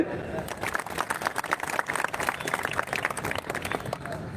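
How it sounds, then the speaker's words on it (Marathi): A crowd at a protest hunger strike applauds, a close, busy patter of many hands with faint crowd voices mixed in, holding steady throughout. "एकदा तुमच्या सर्वांसाठी टाळ्या होऊ"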